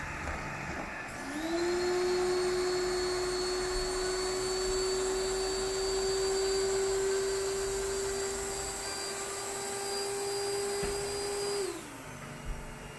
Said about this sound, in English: the vacuum will boost its suction and then go back to normal on the hard floors